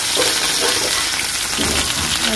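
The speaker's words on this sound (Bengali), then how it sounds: "আমি এক এক করে সব মাছগুলো দিয়ে দিব ভাজার জন্য।" Rohu fish pieces frying in hot oil in a wok, giving a loud, steady, close sizzle and crackle that fills the clip without pause.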